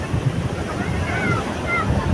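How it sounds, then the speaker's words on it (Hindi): Strong sea waves break and wash in a steady, close roar, with wind buffeting the microphone. "बहुत तेज़ तेज़ लहरें आ रही हैं"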